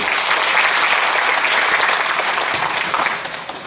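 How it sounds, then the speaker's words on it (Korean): Sustained applause from an audience at a 2019 youth environmental volunteer award ceremony, honoring the prize winners; dense and steady throughout before easing slightly near the end. "여러분 올 추상자에게 박수를 한번 보내주십시오"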